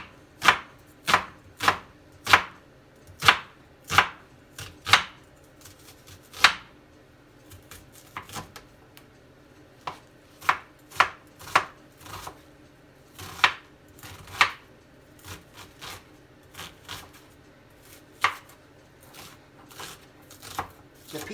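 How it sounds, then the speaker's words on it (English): An onion being chopped with a knife on a cutting board, sharp distinct knife strikes in irregular bursts of several quick cuts separated by short pauses, close and clear with no talking. "So the first thing we want to do is cut up the vegetables."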